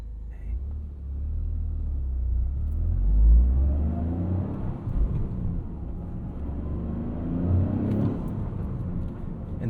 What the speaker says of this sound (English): There aren't many cars these days that have a 3-cylinder engine.